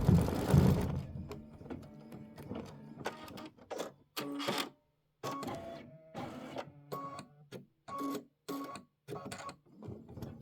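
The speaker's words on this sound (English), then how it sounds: "And then we're going to stitch the stripes decorative outline." An embroidery machine stitches a decorative outline on a quilt applique, giving rapid mechanical stitching bursts in short, evenly spaced runs with brief pauses between them, close and clear with no talk.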